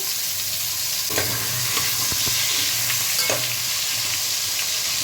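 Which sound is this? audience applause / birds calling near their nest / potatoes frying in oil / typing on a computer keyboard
potatoes frying in oil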